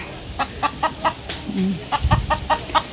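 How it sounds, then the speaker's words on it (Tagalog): A rooster calls nearby in a string of short, evenly spaced clucking bursts, with faint background noise underneath. "Nag-iingay si Tandang."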